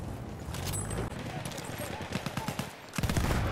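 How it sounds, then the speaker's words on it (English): Machine gun fire in the first-person shooter Deadfield sounds as a rapid rattling stream of shots, close and loud, mixed in with excited speech from a player. "Machine gun right there!"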